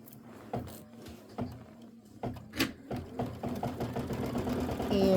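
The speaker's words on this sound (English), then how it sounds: "I'm going to go ahead and stitch." An embroidery sewing machine stitches a quilt border, starting with a few short separate bursts and then settling into a steady, continuous mechanical whir that grows louder toward the end.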